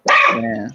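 A dog gives one loud, close bark that trails into a short growling yip, with a person briefly speaking over it.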